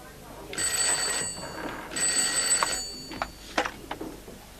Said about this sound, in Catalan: Alfonso, et demanen el telèfon